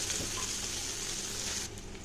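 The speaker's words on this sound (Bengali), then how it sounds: "তো ওই মাছ ভাজার তেলেই আমি রান্নাটা করব। দিয়ে দিচ্ছি একটু পেঁয়াজ কুচি।" Chopped onion sizzles in oil left over from frying fish, a steady close frying hiss that drops away near the end.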